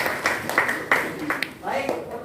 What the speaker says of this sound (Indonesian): tepuk tangan buat pertanyaannya